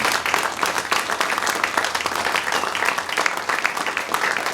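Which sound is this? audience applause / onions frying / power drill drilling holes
audience applause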